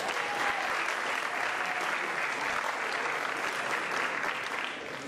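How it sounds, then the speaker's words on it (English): An audience at a college awards ceremony claps steadily and loudly throughout, a dense, even wash of applause that tapers slightly at the very end. "Let's give her a hand."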